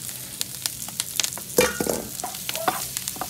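Pork paella with turmeric, smoky paprika and cherry tomatoes sizzles in a pan on a stove top, with scraping stirring strokes and sharp crackles over a soft frying hiss.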